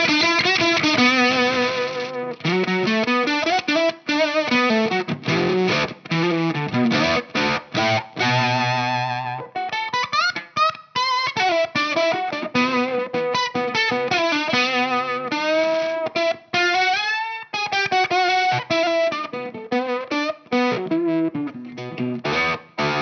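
A Stratocaster on its neck pickup runs through a fuzz pedal, playing thick, distorted lead lines and bends at full volume, then continuing with the guitar's volume backed off for a cleaner, slightly softer tone.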